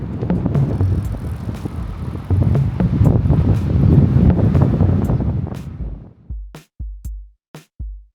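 Strong wind buffets the microphone while riding a Brompton folding bike in Japan, a loud roaring gust that drops away near the end into a few short bumps and clunks.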